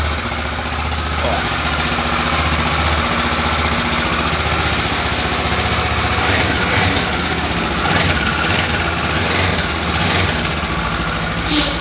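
A Kawasaki ER-6n motorcycle engine idles steadily close by, a constant buzzing putter with some faint clicks and rattles in the background.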